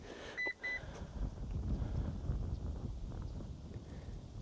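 A 2025 Toyota 4Runner TRD Pro tailgate kick sensor gives two short, high electronic beeps in quick succession near the start, followed by low outdoor rumble and shuffling.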